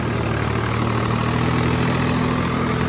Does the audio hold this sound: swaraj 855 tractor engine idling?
yes